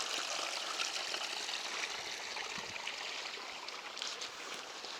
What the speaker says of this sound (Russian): Это лесной ручей.